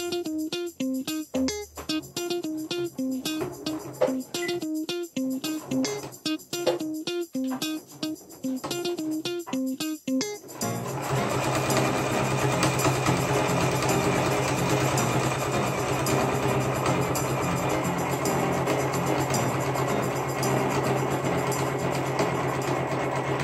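A home sewing machine stitches thick denim, running first in short start-stop bursts and then in one long steady loud whirring run.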